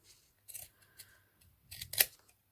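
Scissors snip through faux leather ribbon for a hair bow, with a few quiet, separate cuts followed by a sharper, louder pair of snips close by in an otherwise quiet room, no talking.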